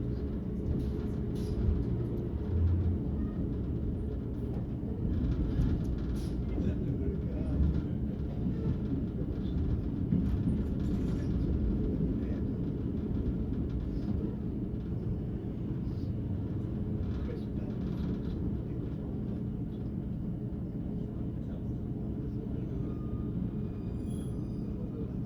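A Northern rail service running toward Stalybridge, with a steady, loud low rumble of the train in motion and wheel noise throughout, heard from on board with no talk.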